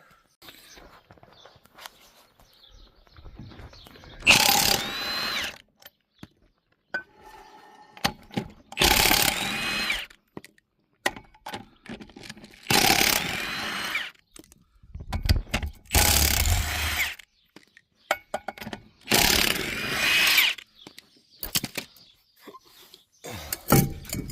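A 3-ton jack lifts a vehicle onto an axle stand in repeated bursts of ratcheting, clanking pumping, each lasting about a second and separated by pauses, up close with no talk.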